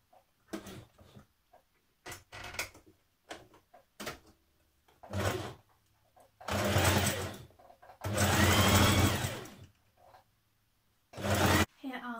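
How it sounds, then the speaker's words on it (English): Overlocker serging the hem edge of wide-leg trousers, heard in several separate runs: short bursts at first, then longer steady whirring passages and a final burst, with quiet gaps between. "overlock this off, and I'm going to do that now."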